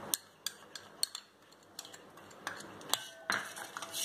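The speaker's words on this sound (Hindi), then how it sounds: "अभी हमने नींबू डाल दिया है सभी, अब इसे मिक्स कर लेंगे।" A metal spoon stirs a lemon shikanji drink in a glass, giving scattered light clinks and taps at an uneven pace, close and fairly quiet.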